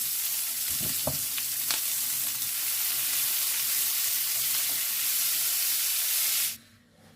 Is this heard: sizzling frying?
yes